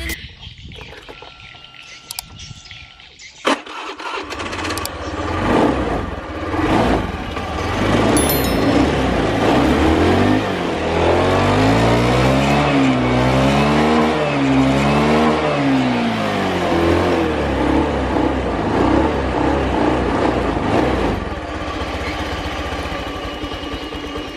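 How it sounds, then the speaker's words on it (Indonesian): Honda Beat FI scooter engine being started after a repair, caught close and loud: after a few seconds of clatter it runs steadily, rises and falls through several revs, then settles to a rough, uneven idle. "motornya sudah hidup ya, tapi belum mau langsam"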